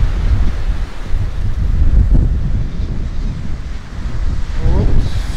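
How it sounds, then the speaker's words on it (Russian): Strong autumn wind buffets the microphone on a Kaliningrad construction site, a steady loud low roar that rises and falls in gusts throughout, with no voices. "Ветер аж сдувает"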